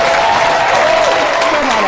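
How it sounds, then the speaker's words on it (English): A studio audience claps and cheers to welcome a guest onto a game show, loud and continuous, with a voice calling out over the applause. "will y'all please welcome with a big round of applause"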